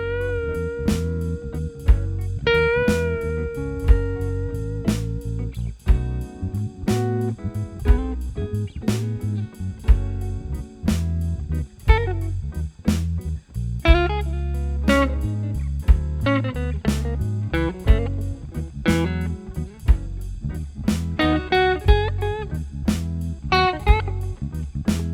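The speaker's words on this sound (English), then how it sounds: "here's a clean sound coming out of the Overdrive channel" Fender Stratocaster through a tube amp's overdrive channel set with the drive turned down, played as a clean, chord-heavy riff with sharp strummed attacks and ringing notes, loud and alone with no talking.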